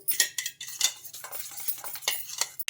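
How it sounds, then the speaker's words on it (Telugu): A spoon mixes rice, egg, salt and sugar in a bowl, giving quick, close scraping clinks and taps in an uneven rhythm, with no talking. "ఇంకా ఇప్పుడు ఒక స్పూన్ తోటి బాగా కలిపేసుకోవాలి ఇలా"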